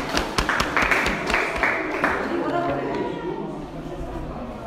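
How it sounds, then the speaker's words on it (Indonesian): Applause and cheering from a classroom group for the first team, a burst of clapping under lively chatter that tapers off over a few seconds. "Berikan tepuk tangan kelompok 1-nya."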